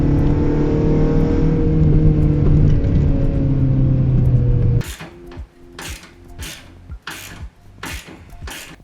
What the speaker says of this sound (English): I'll take a little drive in the darkness to record the performance of the old headlights